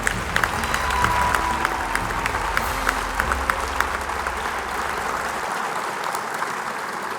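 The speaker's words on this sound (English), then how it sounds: "Please join us in a round of applause" Audience at a university sports hall of fame ceremony gives a loud, continuous round of applause, sharp individual claps standing out from the crowded clapping throughout.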